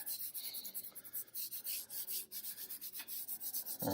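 Oil pastel is rubbed back and forth across paper in quick, even scratchy strokes, a soft rhythmic rasp heard close and alone.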